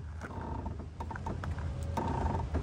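A Powertouch motor mover on a 2005 Lunar Chateau 450 caravan is disengaged by turning a handle, giving a run of close mechanical clicks, creaks and ratcheting over a steady low background hum.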